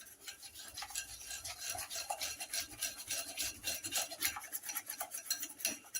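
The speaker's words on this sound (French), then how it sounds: "Moi je le fais au fouet à la main pour que ça fasse moins de bruit" A hand whisk scrapes rapidly around a bowl of chocolate cake batter, quick rhythmic rasping and light metallic clicks, close and fairly quiet.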